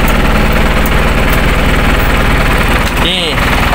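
A Mitsubishi Colt Diesel FE 119 truck's diesel engine idles loudly and close, a steady rough rumble with a brief dip near the end.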